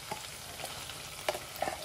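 Tomato sauce of canned fried tomato sizzles faintly in a pan, a soft continuous hiss with a few small pops and stirring scrapes, quiet and close with no talking.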